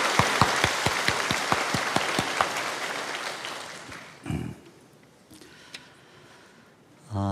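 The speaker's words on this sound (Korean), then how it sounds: "우리 감사와 또 격려의 박수를 드리겠습니다" A church congregation applauding together at a Sunday worship service, a dense rhythmic clapping that builds, then fades out after about four seconds into near quiet before a soft swell of room sound.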